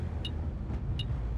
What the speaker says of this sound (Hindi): मैं गाड़ी चला रहा हूं।